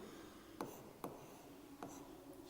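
Chalk or marker writing a word on a classroom board, faint soft strokes with three sharp taps as the tip meets the surface, under a quiet room hum.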